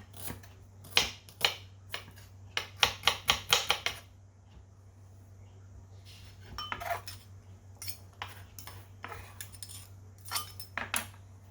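A knife slices spring onion, ginger and chili on a cutting board, giving sharp, rapid chopping taps in quick bursts separated by pauses, close and clear over a low steady hum, with no talking.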